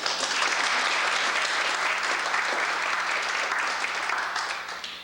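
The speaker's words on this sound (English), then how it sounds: "Give them a round of applause." A crowd at a 1994 Pork Festival queen contest gives sustained, thick applause that holds steady for several seconds before tapering slightly at the end.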